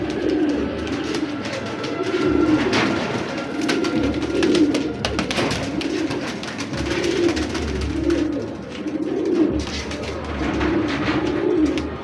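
Pigeons of a local breed, black-eyed and kept as racing birds, coo in repeated rounded phrases about every one and a half seconds, close and steady over a faint background hiss with no talking.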